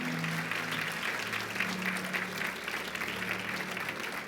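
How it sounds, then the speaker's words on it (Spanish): A church congregation applauds after a sermon, a fairly quiet but continuous patter of many hands clapping, with a faint sustained tone humming low in the background. "Dale un fuerte aplauso al Señor."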